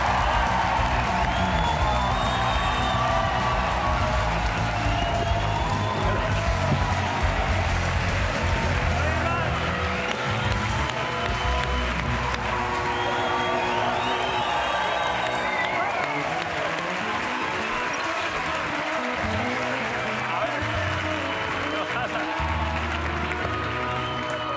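A TV studio audience at the La Resistencia late-night show applauds and cheers for a guest, a sustained loud crowd roar with band music mixed underneath throughout.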